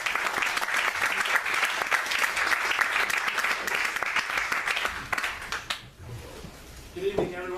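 Theatre audience applauding steadily with dense clapping for several seconds, then thinning out as the clapping fades and a voice begins speaking near the end.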